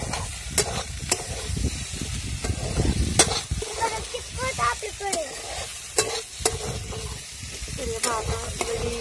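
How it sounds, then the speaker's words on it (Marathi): Potato chutney with plenty of onion sizzles in a pan while being stirred, a steady close frying hiss broken by scraping stir strokes, with someone talking over it at times. "आता भरपूर परतली असेल ती आपली बटाट्याची चटणी."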